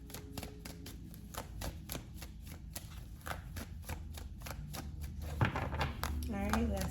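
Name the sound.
shuffling tarot cards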